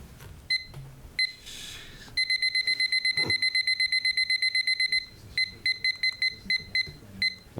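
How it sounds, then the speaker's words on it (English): A timer alarm sounds in short bursts of sharp, high electronic beeps, then a long run of rapid, evenly spaced beeps, then more broken bursts. The beeping is loud and close over faint room noise. "I gotta reset my timer"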